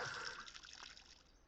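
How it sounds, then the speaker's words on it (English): A watering can pours onto plants in the video game Schedule 1, a brief, soft trickle of running water that fades quickly. "Going to water both of these."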